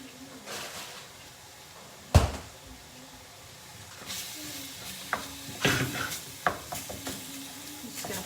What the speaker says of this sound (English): Fry that in with your onions.